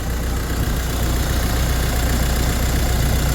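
The 2.8-litre Duramax diesel LWN engine of a 2017 Chevy Colorado idles loudly and steadily up close after a timing belt change, with a constant rough, rattly diesel clatter and no voices.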